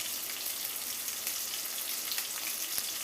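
Onions frying in a home kitchen pan, a steady dense sizzle with crackling spits throughout, moderately close and continuous with no voices.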